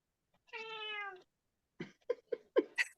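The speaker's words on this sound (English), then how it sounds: "The cat came and the cat went." A cat meows once in a long, drawn-out call, then gives a quick run of four or five shorter meows after a pause, fairly faint and with no talking over it.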